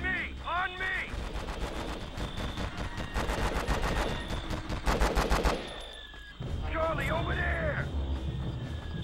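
Video game machine gun fire from Conflict: Vietnam rattles in sharp repeated bursts, loud and close, broken by pauses, with voices talking over it and cawing crow calls at the start and end.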